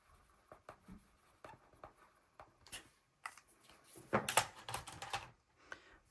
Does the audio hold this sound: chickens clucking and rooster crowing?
no